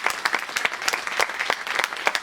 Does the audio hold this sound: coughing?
no